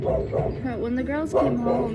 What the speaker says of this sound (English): She likes to bark at everybody down below.